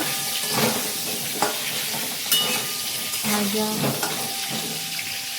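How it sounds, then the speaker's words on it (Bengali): Salted potatoes sizzle steadily in hot oil, with occasional stirring clatter and scraping over the continuous frying hiss. "আলুগুলো একটু নুন দিয়ে ভেজে নেব।"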